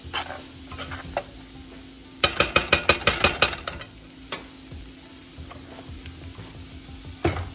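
Vegetables sautéing in a pan for Trinidad-style doubles, a steady close sizzle broken by a quick burst of about eight sharp metal spoon scrapes and taps against the pan, with a few more scattered clinks later.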